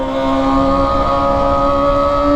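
Kawasaki ZX25R motorcycle with a Toce exhaust, its engine holding a high, steady rev with a strong buzzing whine, heard close and loud on a city street with no talk.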